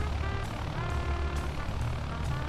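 Engines of a BN-2 Islander running in Microsoft Flight Simulator, a loud, steady droning propeller hum with a continuous low rumble and no pauses.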